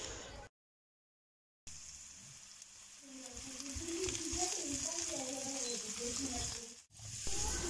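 Button mushrooms sizzle and crackle steadily in hot oil, a close, continuous hiss with small pops, briefly cut by a short silence near the start.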